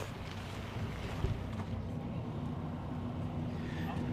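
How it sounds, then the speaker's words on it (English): Steady low rumble of an intercity bus engine on the move, a continuous droning hum with faint wind-like noise and no break throughout. "Is that the rumbling of a bus, of an intercity bus, I hear you say? And my reply is, yes it is."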